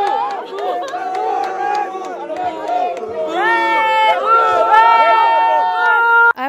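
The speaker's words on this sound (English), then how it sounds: "Everyone in the crowd was going crazy, obviously cheering on for Nepal" A packed crowd at a Nepal-versus-India MMA bout in Nepal roars and yells in support of the Nepali fighter, many voices shouting over one another in a loud, continuous din that swells toward the end.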